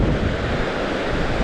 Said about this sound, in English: The wind is coming to the side. It's coming at an angle here.